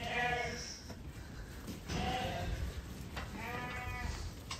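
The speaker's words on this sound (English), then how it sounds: "all the lambs are now in, and the rest of the ewes are going to go up" Sheep and lambs bleat at a farm as ewes are moved out to pasture, with several loud, wavering calls nearby over steady outdoor noise.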